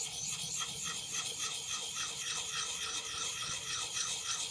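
Steady, close rasping of an axe's convex edge being honed on a KME angle-guided sharpening system, continuous back-and-forth rubbing strokes with no talking.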